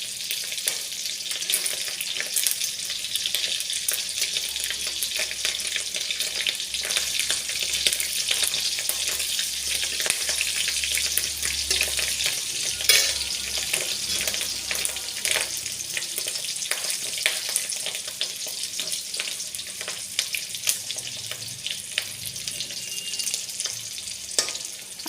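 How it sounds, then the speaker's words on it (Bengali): Fish roe fritters fry steadily in hot oil over a lowered gas flame, giving a continuous dense sizzle and crackle that runs unbroken throughout, with no voices. "গ্যাস কমিয়ে দিয়ে ভাজতে হবে, তাহলে ফাটবে না"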